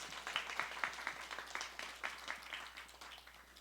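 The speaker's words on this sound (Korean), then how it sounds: "최고의 영광을 부활하신 우리 주 예수 그리스도께 박수로" Easter Sunday church congregation claps in a faint, uneven round of applause, scattered hand claps pulsing across the room at moderate distance.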